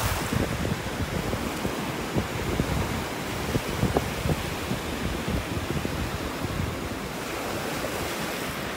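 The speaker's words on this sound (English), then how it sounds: "the waves are just coming in and out too fast here" Ocean surf washing in and out along a North Naples, Florida beach, a steady broadband wash with small breaking bursts, heavy wind noise on the microphone, no voices.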